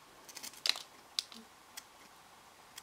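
Scissors snip fly tying material at a tying bench, a few sharp, quiet crisp clicks spaced irregularly over near silence.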